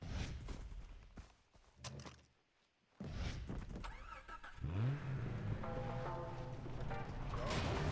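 A car in Far Cry 3 starts up after a door thunk and a short silence, its engine catching and settling into a steady idle hum with some revving, mixed with other game sounds.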